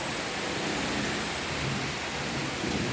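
Heavy rain pours down steadily and loudly on a balcony, a dense, unbroken roar of falling water with no voices.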